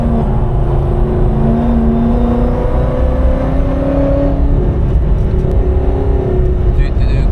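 A supercharged Corvette C6 Z06 accelerates at full throttle on the Nürburgring, its engine a loud, steady, rising roar that persists through the whole stretch with no voices over it.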